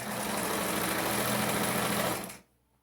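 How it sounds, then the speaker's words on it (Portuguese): A sewing machine runs a continuous fast stitching line along a skirt waistband, a steady close whirring hum that winds down and stops after about two seconds, leaving near silence. "E eu vou costurar toda a parte do cós na saia."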